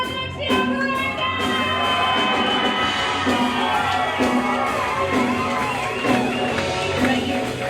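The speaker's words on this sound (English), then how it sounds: "a massive round of applause for Alexia Parenzee!" An audience cheers and applauds for Alexia Parenzee at a live show, a loud sustained crowd roar with whoops and shouts rising repeatedly over a steady background.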